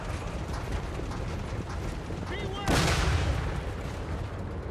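Cannons fire in Total War: Warhammer 3, a sharp broadband blast arriving midway and followed by a rumbling, rolling tail over steady clattering battle noise.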